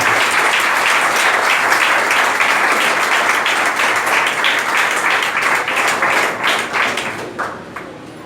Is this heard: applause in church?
yes